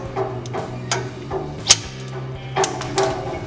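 A hammer strikes a center punch on metal during work on a homemade trailer hitch, a few sharp separate taps with one louder blow, among soft mechanical clicks and rattles.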